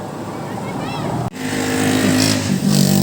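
Motorcycle engines rev and roar outside, a steady rising drone with people talking over it.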